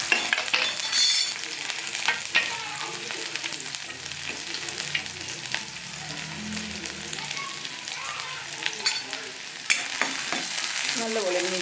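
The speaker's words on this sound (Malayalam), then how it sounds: "ഞാനിപ്പോൾ ഇതാ എണ്ണ ഒഴിച്ചു ഇതിലേക്ക് ഞാൻ ഇടുന്നത് പച്ചമുളകും സവോളയും അരിഞ്ഞു വെച്ചതാണ്" Sliced green chilies and onions sauté in hot oil, a constant crackling sizzle with occasional sharper pops and stirring scrapes, close by and without speech.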